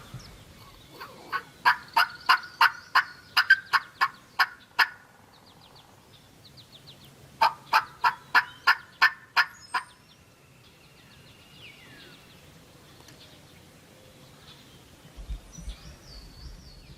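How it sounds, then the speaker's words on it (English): Several wild turkey longbeards gobble from the corner of a soybean field, two rapid bursts of rattling gobbles at moderate distance, then quieter field ambience with faint birdsong. "they're in the corner of this soybean field, and they're just gobbling away"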